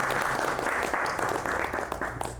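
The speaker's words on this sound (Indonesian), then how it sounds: "Oke, tepuk tangan dulu untuk Kan." Audience applause at an evening literary appreciation gathering, a steady dense wash of many hands clapping throughout at fairly close range, with no speech.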